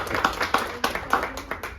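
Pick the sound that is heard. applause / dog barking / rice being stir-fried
applause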